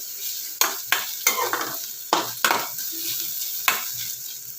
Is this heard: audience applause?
no